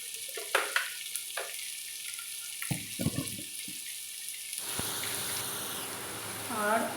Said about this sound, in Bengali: এবার ভালো করে সবজিটা ভেজে নিতে হবে